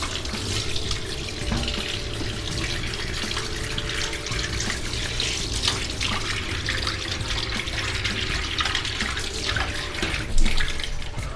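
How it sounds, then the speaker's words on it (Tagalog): Tap water runs steadily into a sink as cleaned fish are rinsed for paksiw, a continuous close splashing stream with a brief louder splash near the end. "Hugasan natin ulit para malinis ba."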